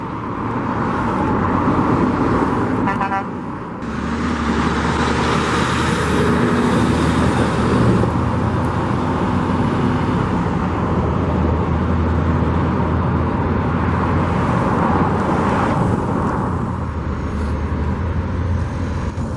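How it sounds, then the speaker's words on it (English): Heavy trucks rumble steadily in and out at a gate of the Las Vegas Raiders' Allegiant Stadium construction site, with continuous loud traffic noise and no speech. "this is where they got a lot of trucks going in and out over here"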